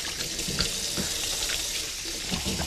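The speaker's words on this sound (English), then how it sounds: "let me wash my hands off a little" Hands rubbing under a running kitchen tap, a steady hissing stream with light splashes and rubbing, close and fairly loud, with no one speaking.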